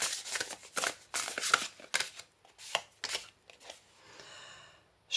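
Thick tarot cards are shuffled close by in quick riffling bursts and soft slaps, then a lighter rustle fades out near the end.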